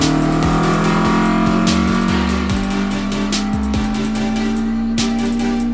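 A Mk1 Ford Escort engine holds a steady loud drone on a rolling road dyno, with repeated throttle blips and revs rising and falling over a constant roller hum.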